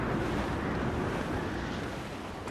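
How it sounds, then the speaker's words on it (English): A gale howls over the ocean in Assassin's Creed Black Flag, with a constant loud roar of wind and rushing waves at sea and no voices. "This gale's got teeth"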